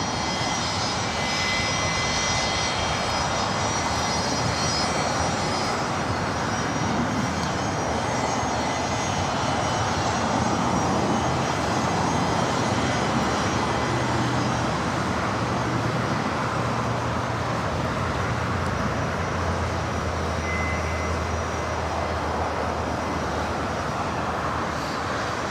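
Airliner jet engines at Los Angeles LAX airport, a steady loud roar with a high whine running throughout, heard alone without talk.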